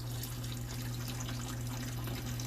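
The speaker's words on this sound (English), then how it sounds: "Pour that water out." Water poured out while an aquarium's gravel is switched to sand, a steady continuous splashing flow, close and fairly loud throughout with a low hum beneath and no talking.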